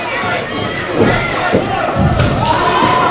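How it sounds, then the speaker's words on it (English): At a live AXW wrestling event, a wrestler hits the ground with a few dull, heavy thuds over a loud, constant crowd roar. "Did you hear the thud when Matt Quay hit the ground"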